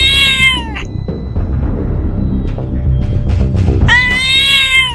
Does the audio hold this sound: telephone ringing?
no